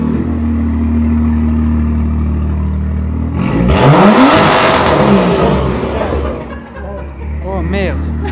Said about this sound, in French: Au moins 150 décibels. L'échappement il est fou.